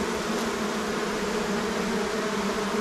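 A honeybee swarm returning into a small hive box makes a dense, continuous buzzing drone, loud and close, steady throughout with no voices.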